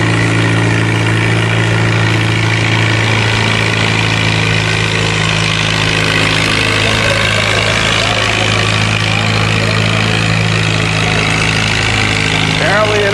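Large pulling tractors idle at a county fair tractor pull, a steady loud engine drone with low harmonic rumble running throughout under a continuous announcer's voice over the public address.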